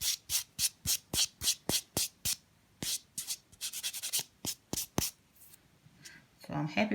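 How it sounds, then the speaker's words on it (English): A nail buffer rubbed back and forth over a fingernail around the cuticle and top, about eighteen quick rhythmic scratchy strokes close up, then a voice speaks at the end. "As I'm buffing, I'm going around the cuticle, the top,"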